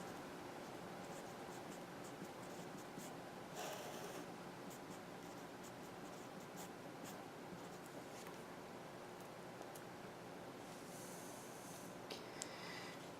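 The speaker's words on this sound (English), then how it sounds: "I'm going to write my final answer in the box provided" Pen or pencil scratches faintly on paper as a final calculus answer is written by hand, soft intermittent strokes over a steady background hiss.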